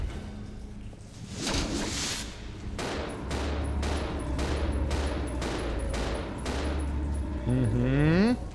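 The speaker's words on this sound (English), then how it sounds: "What are you shooting at, Billy?" Rapid gunfire in Resident Evil Zero: a steady string of loud, evenly spaced shots over several seconds, over a low droning background, ending with a rising whining effect.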